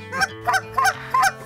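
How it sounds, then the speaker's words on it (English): A Canada goose honks four times in a steady rhythm, loud and close, during a waterfowl hunt, with a low hum underneath. "Big Canada goose."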